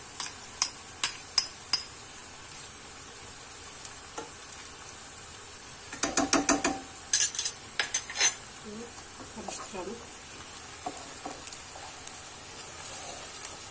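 Onions frying with tomato paste in a pan, with a soft continuous sizzle under sharp spoon scrapes and clinks against the pan, a cluster of stirring strokes in the middle, then quieter frying.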